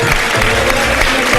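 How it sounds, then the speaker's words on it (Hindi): A studio audience at a televised Ramadan iftar show applauds. The clapping is loud and close, a dense, continuous roar of many hands that fills the whole moment. "बहुत सारी तालियां इनके लिए।"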